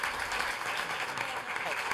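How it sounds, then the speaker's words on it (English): An audience at a student engineering presentation event applauds in a brief, steady burst of clapping heard from a short distance, with some voices faintly mixed in. "let's give them a round of applause"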